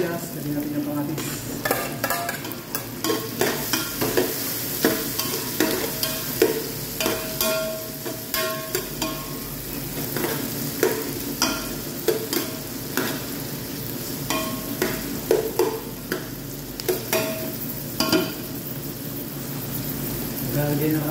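Chopped onions fry in a pan for mung bean stew, a steady loud sizzle broken by repeated scraping and stirring strokes throughout, with no talking.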